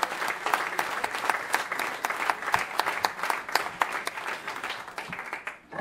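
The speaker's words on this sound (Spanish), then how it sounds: "para que pido un aplauso" Audience applause at a 50th-anniversary celebration of a cultural and recreational club in Chapela, a dense, steady round of many hands clapping that fades toward the end.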